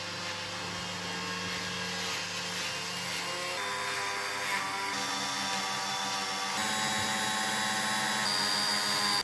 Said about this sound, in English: now I guess it's a Dremel time and then paint job time